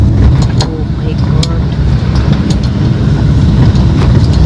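Interior road noise of a moving car driven to a morning gym session, a steady low rumble and hum with faint clicks and rattles running throughout at an even level, with no talking.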